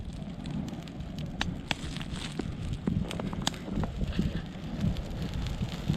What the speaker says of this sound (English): There, I got the box lid on fire that I brought out here.